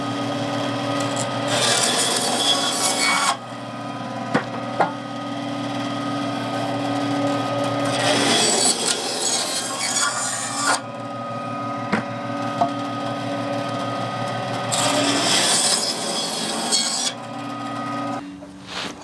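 A bandsaw cuts through smaller pieces of firewood, its motor humming steadily while the blade rasps and grinds in long loud stretches, easing between cuts and then biting in again.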